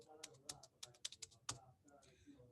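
Computer keyboard typing while entering payroll data in Tally ERP accounting software, a short quick run of close, faint key clicks with a few sharper presses, under quiet speech.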